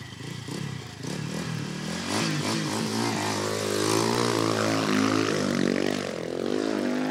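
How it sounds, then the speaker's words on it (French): A very light 110 kg, 50-horsepower racing motorcycle fires up at a race-festival start line and pulls away, its engine note climbing steadily and growing louder as it accelerates, with no talk over it. "le démarrage est un peu capricieux. Moto très légère, 110 kg, mais seulement 50 chevaux."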